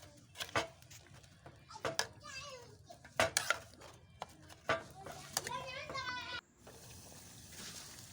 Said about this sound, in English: I'll just stir everything together and let it fry for about 5 minutes.